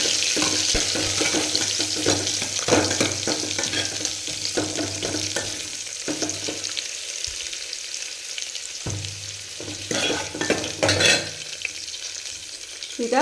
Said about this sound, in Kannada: 1 ಈರುಳ್ಳಿ ಹಾಕ್ತಾಯಿದ್ದೀನಿ.